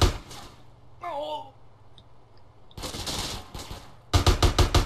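Gunfire in the video game GTA San Andreas, a heavier weapon: short bursts of loud, rapid shots, with a final burst of evenly spaced cracks, between quieter game sounds and a brief electronic tone.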